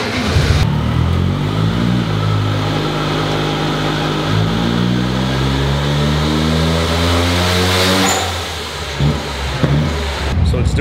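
A single rotor rotary engine with dual individual throttle bodies revs up in a steady climb, its buzzing, rising pitch hanging near 5,000 rpm before cutting back abruptly; loud and close with brief voices near the end.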